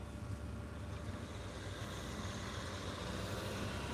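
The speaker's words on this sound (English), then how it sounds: "It is kind of noisy with all these fossil cars coming by" Cars and other road traffic pass along a road in Norway near an EV charging stop. The noise is a steady, continuous broadband rush without distinct breaks.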